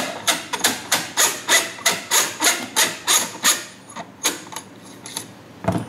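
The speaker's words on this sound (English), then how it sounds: "And now, we remove the flash hider." Rhythmic ratcheting clicks sound up close as a flash hider is unscrewed from an RA-Tech WE XM-177 airsoft rifle, a steady series of scraping metallic ticks that slows and turns uneven toward the end.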